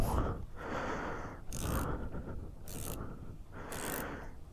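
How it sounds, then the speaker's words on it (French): A wrench works a lock nut on a Triumph Trident or Street Triple gear shifter, making close, faint repeated metallic ratcheting and scraping bursts in a steady rhythm, with no talk over it. "Vous resserrez et vous maintenez avec votre clé. Il y a un contre-écrou."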